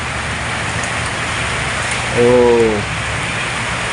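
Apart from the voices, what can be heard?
rain falling and dripping beside house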